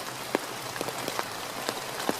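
Steady autumn rain falls in Portland, a soft continuous patter broken by scattered louder drips and taps on nearby surfaces, with nobody speaking.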